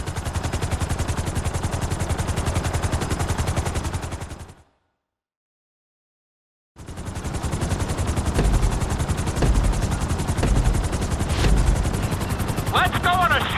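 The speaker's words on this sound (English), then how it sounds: "we're gonna put you in a helicopter for this lesson" A helicopter in Grand Theft Auto 5 flies with a steady, loud rotor chop that cuts out for about two seconds, then resumes with intermittent gunfire-like bursts and voices underneath.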